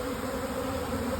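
Honeybees from a swarm drone steadily around a capture box set near a tree and grass, a continuous, fairly close buzzing hum with no talk.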